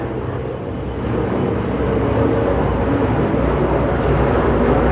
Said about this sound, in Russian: Самолет пролетит.